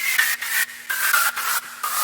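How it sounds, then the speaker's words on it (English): Filtered white noise synth layer built in FL Studio with EQ, distortion and compression, pulsing in short rhythmic bursts with a faint resonant tone running through it, steady and fairly loud on its own. "this puts it in a key because it's resonating with this white noise over here"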